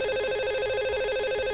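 A steady electronic ringtone repeats in a fast warbling pattern, clear and close, as a radio show rings its lucky caller on the phone line.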